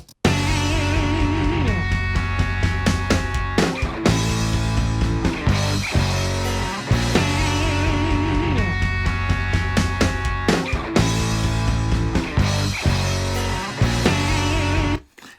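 Layered electric guitars strum a steady rhythmic part with a driving beat, loud and continuous, looping a repeated phrase with no voices.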